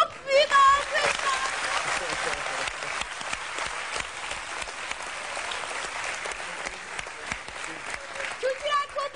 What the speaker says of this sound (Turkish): Çok büyük alkış.